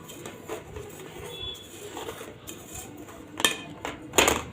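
Knife scraping around the sides of a metal cake tin holding a cooled chocolate sponge cake, soft intermittent scrapes with a couple of sharper metallic clinks near the end, close up, no talking.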